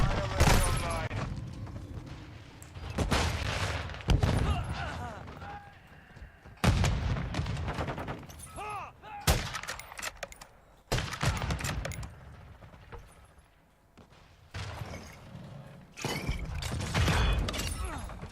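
Bursts of gunfire and heavy booming shots in a shooter video game, loud and close, come in clusters separated by short quieter gaps, with occasional clanking mechanical sounds.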